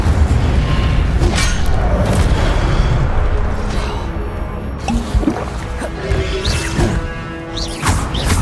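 A fire spell cast in Hogwarts Legacy, a dense roaring burst with crashing impacts and whooshing flame that fills the scene loudly and continuously, layered with game effects.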